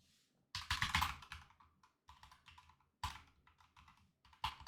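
Typing on a computer keyboard at a futures trading desk, quick bursts of close, crisp key clicks in three clusters separated by brief pauses, quiet and with no talking.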